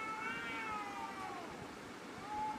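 Two cats fighting, yowling in long, wavering, drawn-out caterwauls that overlap and rise and fall in pitch, moderately near against a steady background hiss.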